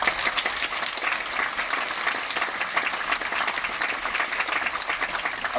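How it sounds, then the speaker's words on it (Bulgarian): Steady, dense applause from a large audience at an arts laureates gala in Burgas, Bulgaria, fills the room, continuous and even throughout. "Аплодисменти!"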